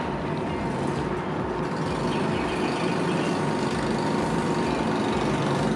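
A locomotive hauls an eight-car CNR train along an elevated track, giving off a steady, dense rumble and roar that stays even throughout with no talking.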